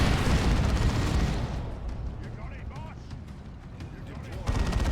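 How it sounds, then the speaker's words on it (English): An assault cannon fires in a sustained, rapid burst of booming, crackling shots amid the broadband din of battle in the strategy video game Warhammer 40,000: Dawn of War 2. The barrage eases midway and then surges loud again near the end. "This assault cannon can suppress."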